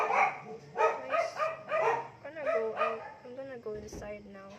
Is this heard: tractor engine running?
no